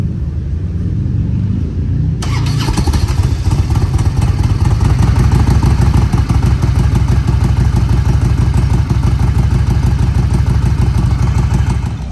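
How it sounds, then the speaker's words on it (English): A motorcycle engine at Sturgis starts up after a low idle rumble, then settles into a loud, steady, close-up running clatter that continues throughout. "we're gonna get this bike going because it is way overdue to get started"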